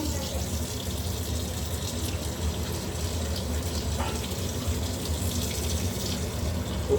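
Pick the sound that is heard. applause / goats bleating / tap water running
tap water running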